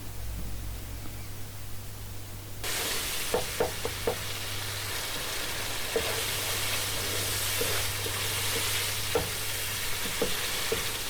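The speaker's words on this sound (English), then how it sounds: "Stir well so all the spices have mixed into the tomato and onion" Spices being stirred into a frying tomato and onion mixture for turnip curry: a steady sizzle of hot oil with scattered scrapes and taps of the spoon against the pan, close and continuous, with no talking.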